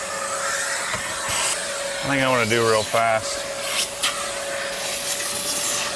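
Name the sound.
vacuum cleaner cleaning BMW E36 M3 carpet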